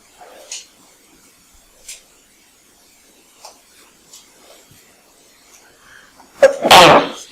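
A single loud, close sneeze bursts out near the end after several seconds of quiet with faint scattered rustles and small sounds.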